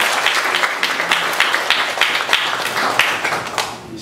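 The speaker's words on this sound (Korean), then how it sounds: "우리 감사 박수 한번 우리 드리면 좋겠습니다." A congregation at a 2018 New Jersey Baptist revival service gives the pastor a round of thankful applause, a close, lively patter of many hands that stays steady before easing off at the end.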